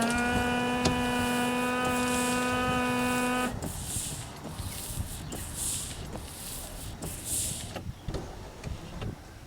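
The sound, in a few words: Corvette C5 windshield wiper motor and washer sprayers being tested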